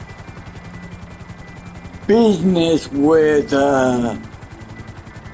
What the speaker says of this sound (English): the helicopter tour is boring, but doesn't take as long.